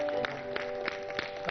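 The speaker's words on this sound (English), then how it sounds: "Big round of applause, ladies and gentlemen" Audience applause at a Mission Swachhta Aur Paani public event, faint and brief with scattered individual claps over a steady background hum.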